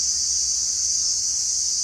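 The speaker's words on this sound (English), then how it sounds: "crickets are loud" A steady, shrill insect drone like crickets chirping fills the clip continuously, loud and unbroken.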